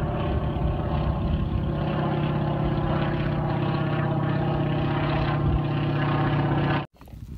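Motorboat on the Aldan River, a loud, steady engine drone with a constant low hum that holds for nearly seven seconds before cutting off abruptly.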